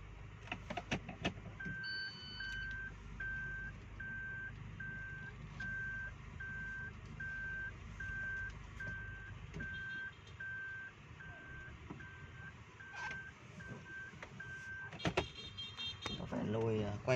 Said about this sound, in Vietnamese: lùi quay xe sang bên này